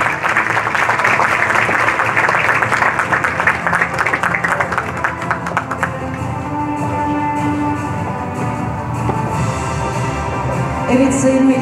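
Sustained applause from an audience at a caricature competition award ceremony, loud and dense for about six seconds, then thinning into softer scattered clapping with a voice breaking in near the end.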